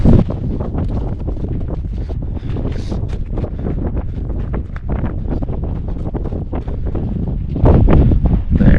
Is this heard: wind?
yes